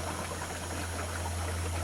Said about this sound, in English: The water's just a rolling boil right now.